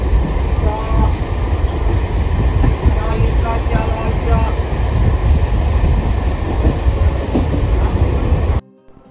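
A passenger train passing through Dashkal Gram station, heard from on board as a loud, continuous rumble with rhythmic wheel clatter that cuts off abruptly at the end.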